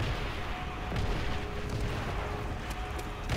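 Artillery strikes in Call of Duty: World at War on the Asylum map rumble as a steady, loud barrage of booms and distant explosions with no speech on top.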